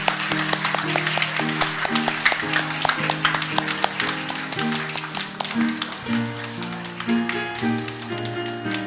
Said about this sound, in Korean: 우리 축하의 박수 보내겠습니다